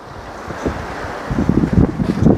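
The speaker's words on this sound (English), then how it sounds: "the wind is really blowing" Strong wind gusts outdoors, a broad steady roar buffeting the microphone, growing louder and more turbulent in the second half with no voices.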